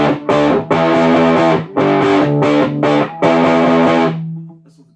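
Electric guitar through a Supro 1419 amp with the tone knob rolled fully off and volume near noon, several loud chords, each strummed and held, with short gaps between, the last left ringing and fading out.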